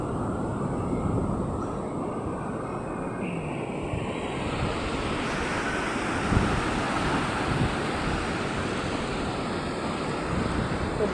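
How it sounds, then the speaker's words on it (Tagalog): Heavy ocean surf roars continuously at a beach in Napsan, big waves breaking and washing in close by, mixed with gusty wind across the microphone. "Sobrang laki ng mga alon, hindi pwedeng maligo ang mga bata guys."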